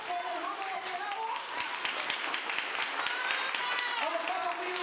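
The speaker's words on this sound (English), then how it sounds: "let's give her one more round of applause" Crowd applause at a family gathering honoring a mother, sustained clapping mixed with cheering and whoops, fairly distant and steady throughout, with voices rising over it.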